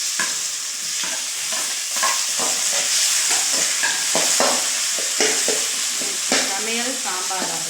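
Curry leaves sautéing in a pan for a Tamil home lunch, a steady crackling sizzle with repeated scraping and stirring strokes of a utensil, close by and without any voices.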